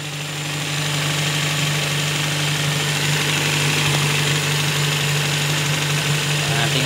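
An engine with a clogged fuel system idles to warm up, a steady, even mid-pitched hum with a constant drone and slight vibration, loud and close, running alone throughout.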